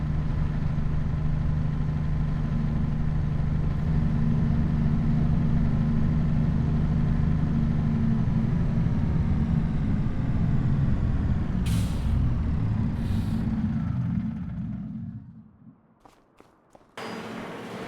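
A farm truck in a video game idles steadily with a loud, low engine rumble for most of the stretch, then a few sharp air-brake hisses burst out near the end as the engine drops away into near silence.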